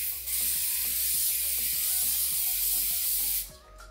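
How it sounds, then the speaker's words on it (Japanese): Spray wax is misted over styled hair in a salon, producing one steady close hiss that lasts about three seconds and then cuts off, heard with no talk. "スプレーワックスを全体に振ります。"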